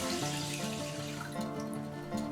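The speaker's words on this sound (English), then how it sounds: "Add the water." Water pouring steadily from a kitchen tap or jug into a saucepan of drained basmati rice, a continuous close splashing stream that stays even for a couple of seconds with no talk.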